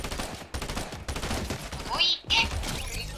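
Gunfire in a Fortnite 1v1 match, with rapid cracking shots spread across the moment and a brief high whine, mixed under loud game sounds and a voice talking.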